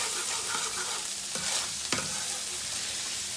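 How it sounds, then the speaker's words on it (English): Mince pie filling is quickly mixed, with a soft continuous wet stirring texture and two or three sharper scraping strokes near the middle, fairly quiet and close, with no speech. "I'm gonna quickly mix it"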